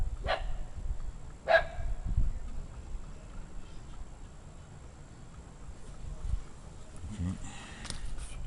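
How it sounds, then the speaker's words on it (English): A Dachshund gives two sharp barks early on, fairly close and loud, then stays quiet while low room noise and faint rustling continue in a garage where an oil pan is being worked on. "here's my Dachshund, who thinks I need his help right now"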